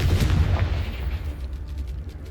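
A Confringo blasting spell from Hogwarts Legacy bursts with a sharp crack, then a heavy low rumble rolls on for a couple of seconds, loud and close with no talk over it.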